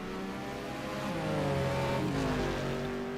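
A race car engine at the Nordschleife 12-hour race drones steadily and then revs upward in pitch, loud and fairly close, with no voices.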